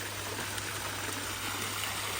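Water spills steadily from a garden pond waterfall into the pond below, a close and continuous splashing rush with no pauses.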